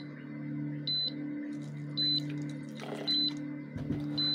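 A Ryaba 100 electronic egg incubator lets out a repeating high whistle-like beep, four short even tones about a second apart, over a steady low hum from the machine.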